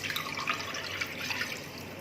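Half a litre of full fat milk pours into a pan on medium heat, making a steady liquid splashing and trickling for about two seconds, close and fairly loud, with no talk.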